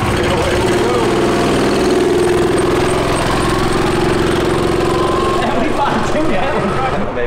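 A car engine idles steadily and loudly nearby for the whole stretch, a constant low rumble with a slight change toward the end, while people talk over it.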